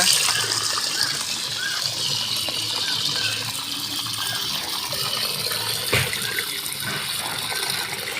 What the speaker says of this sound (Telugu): కండ చేపను కూడా ముక్కగా కట్ చేసి అవి కూడా నీటి కడిగేస్తున్నాయి